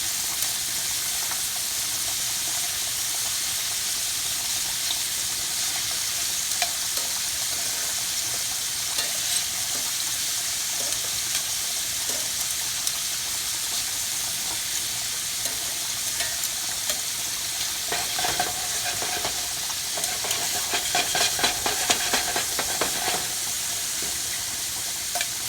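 Shrimp sizzle steadily in a hot pan, a close, even hiss of frying broken by occasional clinks and scrapes as the pieces are turned over. Nobody speaks.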